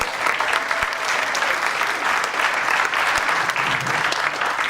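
Theater audience applauding a comedian's introduction at a performing arts center, a dense steady wash of clapping that holds loud and even throughout with a faint cheer near the end.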